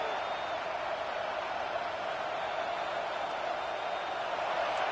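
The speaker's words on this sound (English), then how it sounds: "Listen to this crowd just shaking the girders of this place, trying to help their defense" Stadium crowd noise in a PS5 football video game, a steady, dense roar that holds at one level throughout without clear peaks, with no speech over it.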